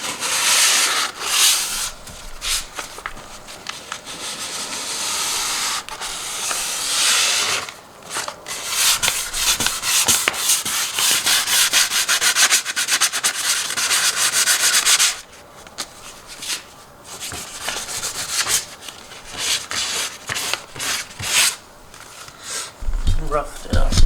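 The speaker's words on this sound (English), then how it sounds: "getting the edge of the sandpaper in there, like moving the straight line down along the line, is no problem" Hand sanding of car paint with sandpaper, rough repeated strokes scraping along a panel edge in uneven bursts, close and fairly loud, with someone talking over it.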